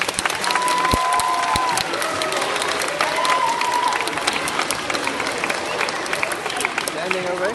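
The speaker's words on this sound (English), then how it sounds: "I would like to ask that we all give our parents a great big round of applause" An audience at a sixth-grade awards day ceremony applauds the parents with steady, dense clapping and crowd noise, mixed with scattered voices and a few sharp knocks.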